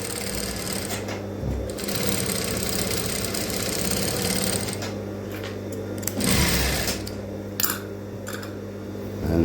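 Sewing machine stitching stretchy fabric folded in two, a loud close mechanical whirring run with a short pause and brief bumps of handling, no talking.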